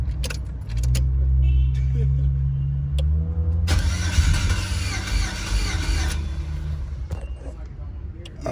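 A Chevrolet El Camino G-body with a swapped 5.3 LS engine, 243 heads and an LS6 intake cranks and catches, then runs at a steady loud idle with a brief rough surge in the middle.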